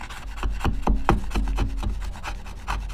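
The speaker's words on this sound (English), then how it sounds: "Just chisel this out. Just keep the chisel nice and sharp." A sharp hand chisel cuts out wood on a boat refit project, giving a steady run of close, crisp scraping and rasping strokes, each a short bright pulse, with no talking.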